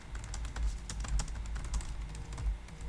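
Someone types steadily on a computer keyboard nearby, producing rapid, uneven key clicks with small bursts and pauses and no talking over them.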